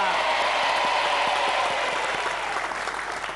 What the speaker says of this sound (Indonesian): Tepuk tangan untuk Mbak Sita